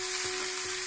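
Mung dal roasting in a pan with chopped onion, giving a steady, close frying sizzle with a constant high hiss and a faint tonal hum throughout, no voices.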